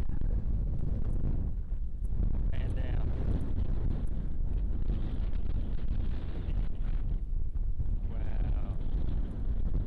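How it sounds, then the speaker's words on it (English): Strong wind buffets the microphone on a high lookout in the Grampians, a loud continuous roar with gusting surges, while a voice speaks intermittently beneath it. "Not sure you hear me because it's so windy"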